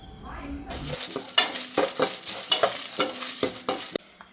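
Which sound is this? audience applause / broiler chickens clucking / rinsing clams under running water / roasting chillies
roasting chillies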